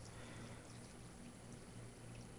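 Water poured into a cooking preparation in a chef's kitchen, a steady, quiet splashing flow lasting the whole stretch, with no talk.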